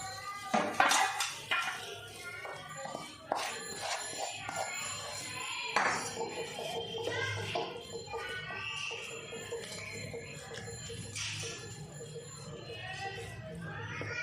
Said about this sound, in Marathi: मी आता ह्या बाउलमध्ये ह्याला काढून घेणार आहे.